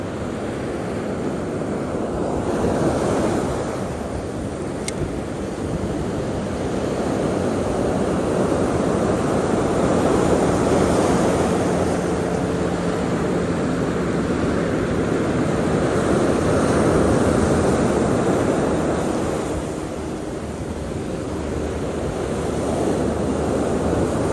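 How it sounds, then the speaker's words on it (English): Ocean surf breaks on a beach in a steady, loud roar that swells and eases across several wave sets, with wind rushing over the microphone and no talking. "cast right in that water beyond the white water before the waves start breaking"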